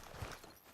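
A few quiet hoof clip-clops as a horse is hitched up in Red Dead Redemption 2, brief and faint.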